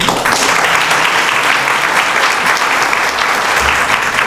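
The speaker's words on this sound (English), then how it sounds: "just a round of applause" A crowd at a small business assistance program event gives a round of applause for awardees, steady full clapping filling the room without a break from start to finish.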